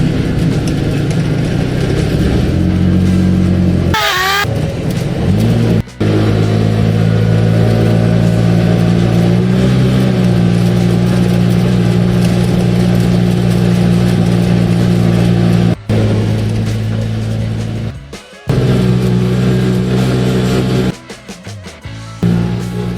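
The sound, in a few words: tuk-tuk engine climbing uphill on bypass road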